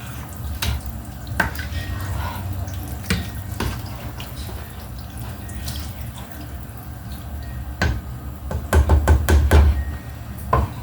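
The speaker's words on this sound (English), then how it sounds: "I need to stir this because we don't want the sauce to burn" A pan sauce with garlic and onion being stirred: uneven knocks and clinks of a utensil against the pan over a soft bubbling, wet background, busier and louder toward the end.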